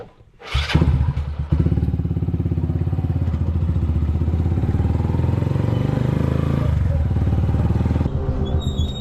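A motorcycle engine starts with a sharp burst, then idles steadily and loudly with a throbbing rumble before cutting off at the end.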